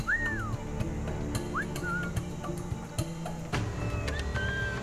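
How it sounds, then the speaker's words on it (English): A character in the pirate-era game Assassin's Creed Black Flag whistles to lure a guard, giving short rising and falling whistle notes over a steady rumbling game ambience. "Let me whistle this guy into his own death."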